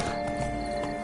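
Horse hooves clip-clopping in The Witcher 3, a brief burst of quick, close hoofbeats with a short whinny-like tone, no talking.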